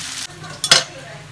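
Chowmein noodles frying with vegetables in a pan, a close sizzle with quick stirring scrapes and one sharp clatter of the utensil, brief and fairly loud.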